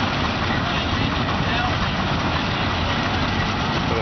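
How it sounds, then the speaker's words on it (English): A Case 110 horsepower steam traction engine, fired on coal or wood, runs at an antique farm show with a steady, dense low chug and mechanical rumble, loud and continuous throughout. "110 horsepower case traction engine, it's called."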